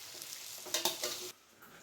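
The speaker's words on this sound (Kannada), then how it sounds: "ಈ ರೀತಿ ಸೈಡಿಂದ ಎತ್ತಿ ಮೇಲೆ ಹಾಕ್ತಾ ಮಿಕ್ಸ್ ಮಾಡಿ." Vermicelli upma (shavige uppittu) being lifted from the sides and stirred in a pan: soft scraping and rustling with a few brief louder scrapes, close and fairly quiet, no talk.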